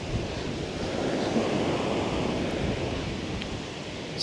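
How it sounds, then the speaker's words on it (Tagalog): Large high-tide ocean waves crash against a rock formation on Boracay, a steady, loud roar of surf with wind noise on the microphone and no speech throughout. "nakikita nyo ba yung paghampas ng alon doon sa rock formation?"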